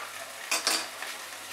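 A spoon stirring mocha ghonto, a Bengali banana-flower dish, with garam masala in a pan, two quick scraping strokes close by, then a quiet hiss under a faint low hum.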